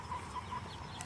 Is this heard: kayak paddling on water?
no